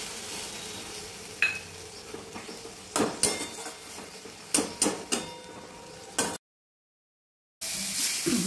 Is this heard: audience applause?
no